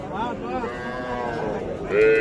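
Cattle moo loudly and close by at an outdoor cattle market, with one long low call swelling near the end and people talking in the background.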